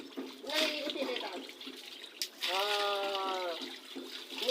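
A man bathes with water at a rural hand pump, a continuous wash of splashing water close by, with people talking over it.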